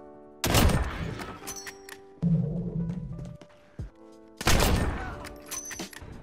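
Sniper rifle shots in an online shooter game, two loud sharp reports a few seconds apart with ringing tails, mixed with game clatter and a mid-range hum between them.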